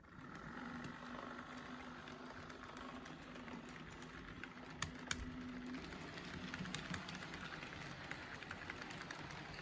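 A locomotive engine runs while hauling a long train, a faint, steady low drone with a constant hum, under scattered light clicks and taps throughout.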